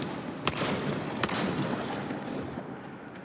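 Gunfire in the VR zombie shooter Arizona Sunshine: a few sharp, loud shots ring out at irregular intervals over a dense, steady background of game noise.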